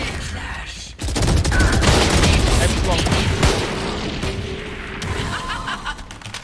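Dense, loud Valorant gunfire crackling in rapid overlapping bursts for several seconds, then thinning to scattered shots and game sounds, with a voice briefly audible amid the shooting.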